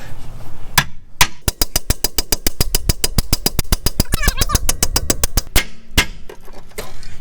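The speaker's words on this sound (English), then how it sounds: "I have a 2-pound sledge for stuff like this" A 2-pound sledgehammer pounds a rust-seized bolt in a rapid run of about thirty sharp metallic strikes that ring close and loud, with a few slower blows at the start and end.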